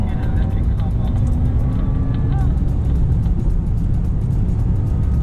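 A Porsche GT3 driven hard in Sport Plus mode, its engine a loud continuous roar with shifting pitch, close up from inside the cabin, steady throughout with faint voices underneath.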